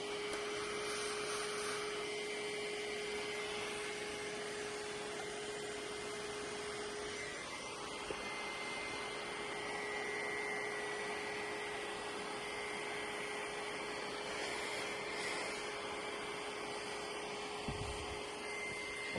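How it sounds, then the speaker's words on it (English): A vacuum cleaner cleans lint out of a serger sewing machine, its motor droning steadily and quietly throughout with a constant whine and small shifts in pitch as the nozzle moves. "use the vacuum cleaner to get what you can get"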